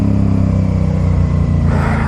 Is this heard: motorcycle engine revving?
yes